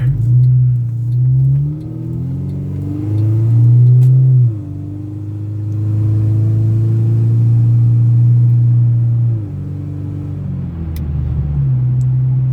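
A VW Cabrio convertible accelerates at about half throttle, its engine droning and rising in pitch through the gears with brief dips at each shift, heard steadily from inside the car without talking.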